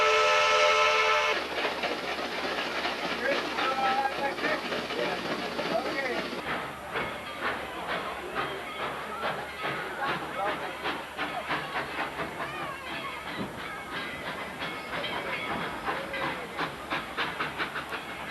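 A double-header of two steam locomotives on the Tweetsie Railroad rumbles and clatters along the rails, with a sharp steam whistle blast at the start and chugging exhaust beats continuing underneath.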